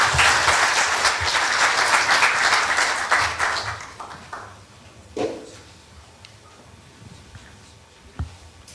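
A forum audience applauds to welcome a speaker, loud dense clapping that swells at first, then tapers off over several seconds, leaving a few scattered claps.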